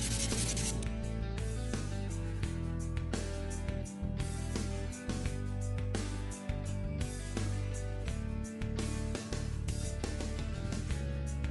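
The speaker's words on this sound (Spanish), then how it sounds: "Cortamos los filos, procedemos a lijarlos para que nos queden redondeados." Rapid rhythmic sanding of the cut edges of an animal cell model piece, a bright scratchy rubbing repeated in quick strokes, close up and steady, with a few brief pauses.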